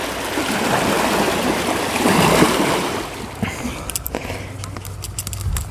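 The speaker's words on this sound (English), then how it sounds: "those are some really wicked waves there" Waves from a passing boat's wake slap and wash noisily against the shore or hull, loud at first and then easing into softer, scattered splashes.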